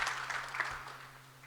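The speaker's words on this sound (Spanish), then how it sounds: "les pido un fuerte voto de aplausos para nuestro próximo expositor" Audience applause at an international mechanical engineering congress session, a dense, soft wash of clapping from a seated crowd that gradually fades over about a second and a half.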